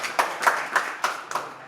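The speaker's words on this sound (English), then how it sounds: "Round of applause." Sparse clapping from an audience at a school homecoming gathering in Ado Ekiti, Nigeria: a handful of separate, fairly loud claps spaced in an uneven rhythm, with quiet gaps between them.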